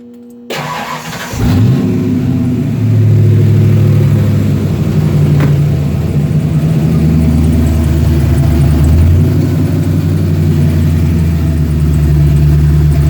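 A Ford Ranger with a 5.0 V8, just back together after a rear main seal repair, cranks and fires up loudly close by, then settles into a deep, steady idle with a slight rhythmic lope.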